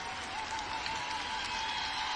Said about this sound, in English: There you see the Aquinas players applauding their fans that have supported them all along.